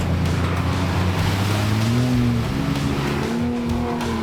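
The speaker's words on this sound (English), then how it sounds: "Others, on the other hand, are keen to see just how much splash these rigs can make." 4WD off-road rigs rev and churn through a water puddle, a loud, continuous roar of engines with rising and falling tones over rushing, splashing water, close and sustained throughout.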